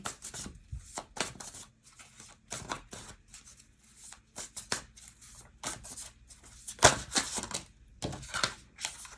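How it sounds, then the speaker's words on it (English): A deck of tarot cards is shuffled vigorously: repeated quick riffling bursts and soft slaps, close and crisp, arriving in irregular clusters with short quiet gaps between them. "I shuffle these cards like crazy too."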